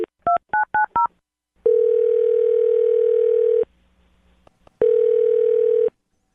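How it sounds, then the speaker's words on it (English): Five short DTMF keypad tones dial a phone number in quick succession, then a steady dial tone sounds for about two seconds, pauses, and returns, loud and clear with no voices. "I'm going to dial her phone number right now"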